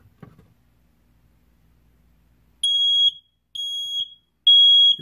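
A push-tested smoke alarm sounds three loud, shrill electronic beeps in an otherwise quiet room, each beep about half a second long, with a faint rustle before them.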